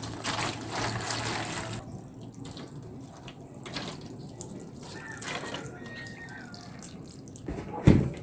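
Tap water running and splashing into a sink or tray for soaking seed-germination pellets, a steady wash of flow with drips, then a brief knock near the end.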